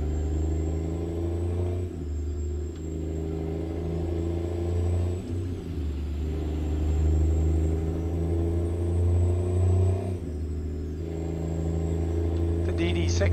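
Detroit Diesel Series 60 truck engine with an 18-speed gearbox in American Truck Simulator, a steady deep diesel drone with low rumbling harmonics and slight swells in load, a voice speaking over it.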